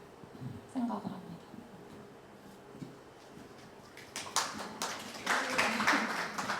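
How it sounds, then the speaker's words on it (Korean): Audience clapping at an artist talk, a brief patch of scattered claps rising after a stretch of low talk, with voices continuing underneath. "매번 박수 쳐주시나요?"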